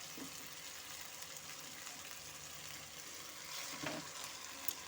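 Fried chicken goes into sizzling masala in a pan for Bengali chicken roast, giving a faint, even sizzle with a few soft stirring sounds, no talk.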